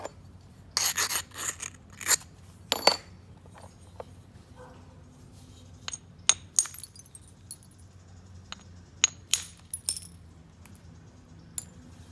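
Sharp strikes and clicks of knapping agate stone, irregularly spaced, some in quick clusters, with quiet gaps and faint handling noise between them.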